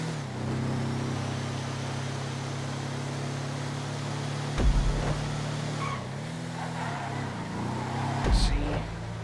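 Bravado Youga Classic van driving in GTA 5, a steady engine drone with shifting pitch as it steers, brief louder bumps near the middle and end.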